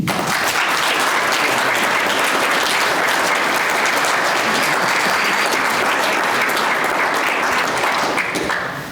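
A full room at a university alumni awards dinner gives sustained, loud applause that holds at an even level throughout and tapers slightly at the very end, with no voices standing out.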